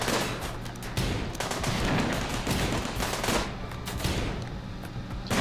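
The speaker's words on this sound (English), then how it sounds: "the sniper turret takes a long time to actually fire, but it does a lot of damage when it does" Gunfire in the RimWorld video game rattles in dense, repeated bursts with heavy booms layered over a constant roar of combat, loud and continuous throughout.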